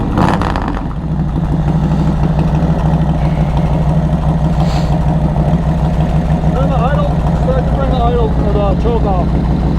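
A Harley-Davidson Road King with new headers idles close by, a loud, steady, lumpy low rumble that keeps going without a break; voices talk quietly over it toward the end.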